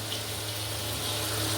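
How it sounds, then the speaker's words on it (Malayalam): Coconut oil pours into a pan for a restaurant-style beef curry, a steady close liquid rush with a low hum underneath, no one speaking. "അതിന് വെളിച്ചെണ്ണ ഒഴിക്കാം"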